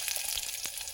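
Onion and green chilies fry in hot oil, giving a steady, close crackling sizzle for a moment with no voices.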